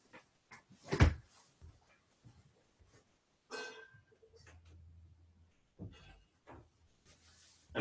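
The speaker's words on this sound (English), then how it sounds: "that pause is partly me closing the door to avoid the cats making noise" A door is closed in a quiet home room, with a loud thump followed by a few softer knocks and rustles, and no one talking.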